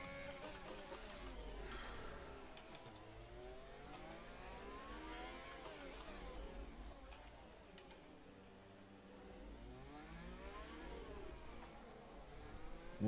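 Racing car engine on an onboard lap of the Monaco Grand Prix in a racing video game, a continuous whining, sweeping drone that rises and falls through gear changes, steady and fairly quiet, with no talking.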